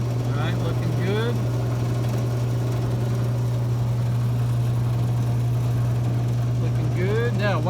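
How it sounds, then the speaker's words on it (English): Someone's T50-26 booster running steadily with a constant low mechanical hum, loud and close, while voices talk briefly near the start and end. "Let's reactivate the booster."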